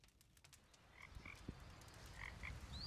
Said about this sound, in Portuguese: tem um barulho de sapo aqui no pântano